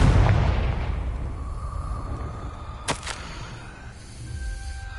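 A Confringo blasting spell in the Hogwarts Legacy video game goes off with a booming burst at the start that rumbles and fades, followed by a sharp crack and faint ringing tones.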